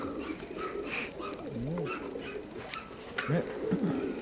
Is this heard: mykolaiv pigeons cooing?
yes